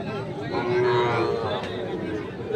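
Cattle moo at a busy livestock market selling Sahiwal bulls and calves, a drawn-out lowing call rising over a steady background of crowd chatter and voices.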